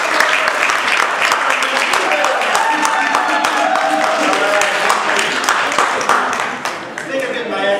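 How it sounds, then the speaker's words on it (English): An audience applauds a presenter at a web development session, steady dense clapping filling the room throughout, with voices calling out over it before it thins slightly at the end. "Let's give this guy another round of applause."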